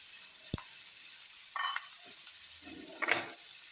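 Bombili (Bombay duck) fish frying in a pan: a faint, steady sizzle with a few brief clinks and scrapes of a utensil against the pan, quiet and close, with no voices.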